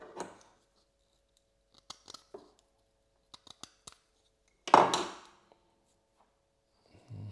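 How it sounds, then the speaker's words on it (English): Scissors or cutters trimming the braided shield of a coax cable while fitting a connector for a discone antenna; a few small snips and clicks spaced out over quiet, with one louder crunching cut near the middle. "now I have to trim a little bit of the shield"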